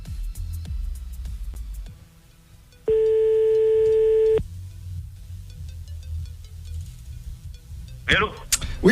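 Telephone ringing tone heard while a call is placed live during a French radio show, a steady held tone of about one and a half seconds standing clearly above the studio background.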